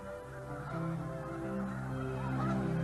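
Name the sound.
snow geese honking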